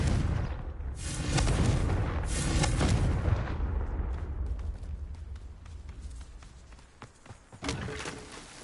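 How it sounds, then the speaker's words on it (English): A blasting-curse explosion in a Hogwarts video game erupts as a loud, booming blast with a rumbling, decaying tail, followed by scattered crackles and debris-like clatter. "Confringo!"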